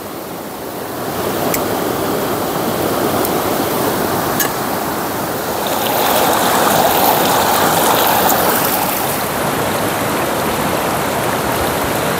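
A river in a forest streams steadily for the whole stretch, a dense, even wash of flowing water close by, with a few faint ticks on top and no voices.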